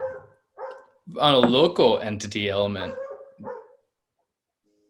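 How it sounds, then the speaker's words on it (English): A dog barks in the background in short, scattered bursts at the start and near the end, partly under a person talking over a casual conversation. "I don't know if you can hear the dog or not"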